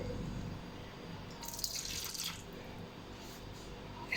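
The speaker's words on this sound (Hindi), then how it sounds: "अब हम इसके अंदर थोड़ा सा तकरीबन 3 से 4 छोटे चाय के चम्मच पानी ऐड करेंगे" Water poured from a spoon into a finished egg tikka masala, a brief trickling splash rising about midway through and fading, close and fairly faint over steady kitchen background.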